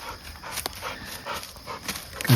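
A German shorthaired pointer pants after retrieving a squirrel on a public-land squirrel hunt, giving close, steady breathy pants for a couple of seconds with no voices.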